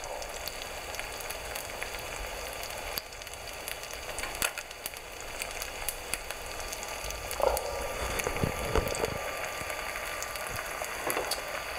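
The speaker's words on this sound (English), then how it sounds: "So we're trying a little fish fry here." Pieces of bass fry in a pan with a continuous crackling sizzle, close and moderately loud, plus a few soft scrapes and clatters near the end; no one speaks.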